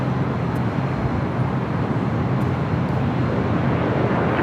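A jet airliner taking off at LAX, a steady broad engine roar that holds at a constant level throughout, distant and continuous with no talk.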